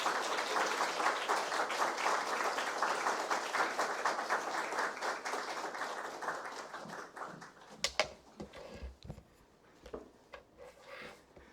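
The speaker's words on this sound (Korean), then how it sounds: "박수로 우리 교수님을 환영하겠습니다" A church congregation gathered for a Bible conference applauds warmly to welcome a visiting professor, steady dense clapping that gradually thins into a few scattered claps and fades out.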